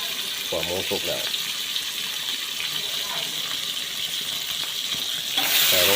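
Pork and cabbage stir-fry in a pan with a continuous loud sizzle and intermittent stirring scrapes, swelling louder near the end as more goes in.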